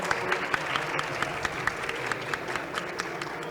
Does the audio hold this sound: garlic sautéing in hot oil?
no